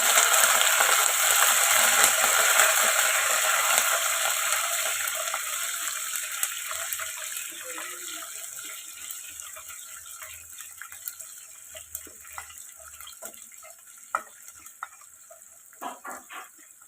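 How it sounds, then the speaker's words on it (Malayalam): Ginger, garlic and curry leaves frying in hot oil for mango pickle, a loud, dense sizzle at first that gradually fades and softens, with a few sharp clinks and pops toward the end. "ഇനി ഇതെല്ലാം മിക്സ് ചെയ്ത് ഒന്ന് മൂപ്പിച്ചെടുക്കണം"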